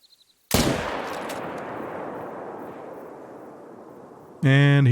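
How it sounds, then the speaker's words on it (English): One sharp rifle shot cracks out in a hunting video game set in Layton Lake District, loud and close, with a long rumbling echo tailing off across the landscape before a voice starts speaking at the end. "So I'm just going to shoot him from here."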